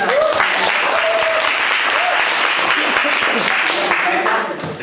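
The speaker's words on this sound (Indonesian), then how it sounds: "Tepuk tangan dulu." Talk show studio audience breaking into loud, sustained applause, dense clapping throughout with voices and a few whoops over it, fading slightly at the very end.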